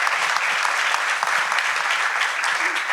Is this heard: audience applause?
yes